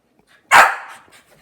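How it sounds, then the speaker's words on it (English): A dog gives a single loud, sharp bark up close, followed by quiet near-silence. "And then you bark loudly."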